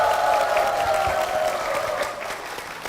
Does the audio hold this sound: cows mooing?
no